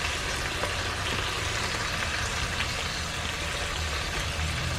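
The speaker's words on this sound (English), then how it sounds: "there's the bacon sizzling" Bacon sizzles in a pan at a beach campsite, a steady broadband crackle and hiss that stays even and close throughout, with a low background rumble underneath.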